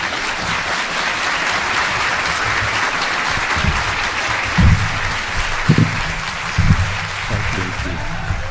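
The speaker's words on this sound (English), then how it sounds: "So another round of applause for Daniel." Audience at an esoteric talk applauds speaker Dr Daniel Condron, steady dense clapping that holds evenly for several seconds with a few louder thumps and knocks near the end.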